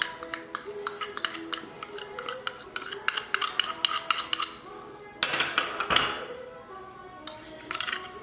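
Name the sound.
utensils mixing chicken, potato and spices in a dish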